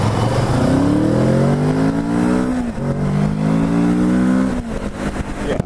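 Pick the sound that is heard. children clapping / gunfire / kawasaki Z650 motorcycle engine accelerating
kawasaki Z650 motorcycle engine accelerating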